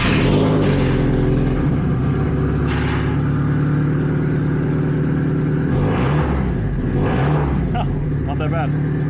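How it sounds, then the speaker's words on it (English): A Subaru STI running E70 ethanol fires up from cold and settles into a loud, steady idle rumble with a few revving swells, and someone speaks over the engine. "This is going to be our first cold start on ethanol."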